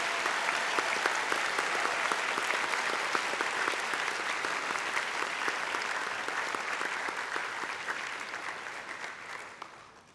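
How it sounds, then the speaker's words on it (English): At the 2016 National Science Bowl high school championship finals, a large audience applauds the high school students with dense, sustained clapping that holds evenly, then gradually fades toward the end. "I want everyone to give them a round of applause."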